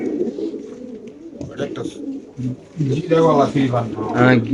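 Pigeons coo repeatedly at a busy pigeon market, their soft throaty calls close and overlapping while people talk loudly nearby.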